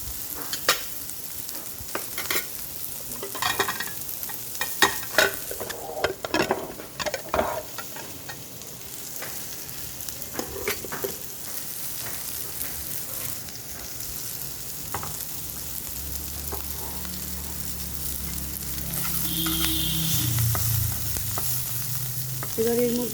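Butter chicken with a whole green chili fries in butter in a pan, sizzling steadily while a utensil scrapes and stirs in bursts, the sizzle growing louder and more even toward the end.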